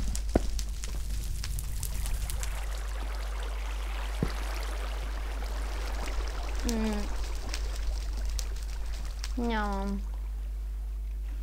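Water being placed and flowing in a block-building video game, pouring and trickling sounds beneath continuous excited talking, with a couple of short rising electronic chirps.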